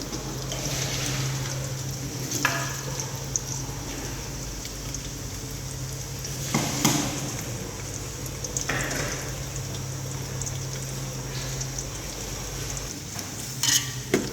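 Chopped onion frying in hot sunflower or groundnut oil for ghee rice, a steady crackling sizzle with occasional scrapes and stirs of a spoon against the pan.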